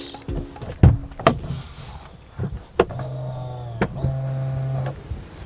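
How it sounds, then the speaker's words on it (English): A 2019/20 Range Rover Sport HSE car door closes with a few clicks and thumps, then the soft-close motor hums steadily in two stretches as the door is drawn shut. "Soft close feature, you don't have to slam the door"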